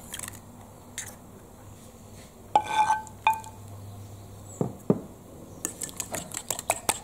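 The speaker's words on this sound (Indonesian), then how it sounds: "Kocok rata dengan garpu atau dengan sendok." A fork whisks sugar, eggs, melted butter and salt in a bowl for Hungarian chimney cake dough, giving sparse, light clinks and scrapes against the bowl over a quiet, steady background hum.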